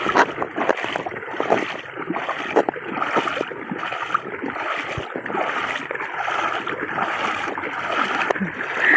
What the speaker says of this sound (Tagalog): ang lakas ng agos na dadaanan ko